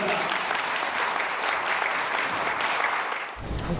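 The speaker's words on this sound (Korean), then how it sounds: "큰 박수로 맞이해 주시기 바랍니다." Loud, dense applause from a large gathering welcoming South Korea's President Yoon, steady and sustained throughout before briefly dipping and swelling again at the end.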